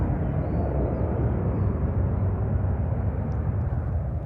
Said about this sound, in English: the Boeing 737 from KLM lined up on the runway threshold